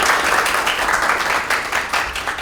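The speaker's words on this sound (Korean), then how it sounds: "오늘 박수 한번 치고 시작할게요" An audience at a K-New Deal Committee data dam policy meeting claps together, a short burst of dense, close applause with individual claps pattering through and slowly thinning.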